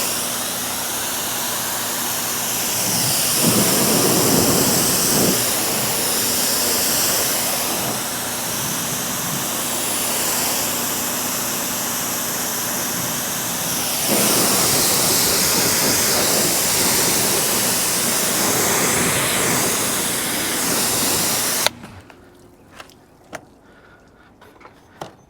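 A pressure washer sprays rinse water over a soapy car in a loud continuous hissing roar, swelling and easing as the spray moves, then cutting off abruptly to near silence with a few faint clicks.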